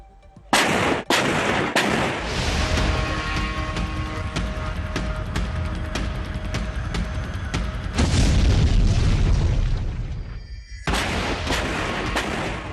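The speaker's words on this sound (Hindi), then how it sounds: "गोले दागते यूक्रेनी टैंक" Ukrainian tanks firing shells in a war zone near Kyiv, a loud run of heavy booming blasts and sharp reports in close succession, several big detonations ringing out, with no voices.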